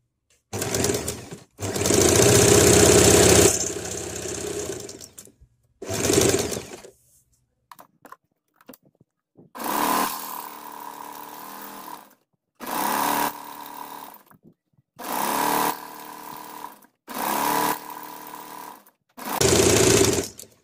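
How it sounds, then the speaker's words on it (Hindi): A sewing machine stitches fabric stripes for the back neck of a blouse. It runs in loud, close bursts of rapid mechanical whirring several seconds long, separated by brief silent pauses. "तो चलिए सबसे पहले हम दोनों स्ट्राइप्स को सिल लेते हैं, उसके बाद इस नेक को अटैच करेंगे।"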